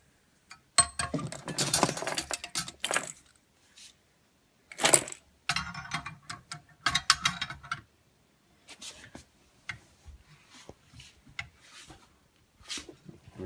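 A brake line flaring tool being tightened onto a metal brake line gives a string of close, sharp metallic clicks and ratcheting clinks, arriving in bursts with short pauses between them.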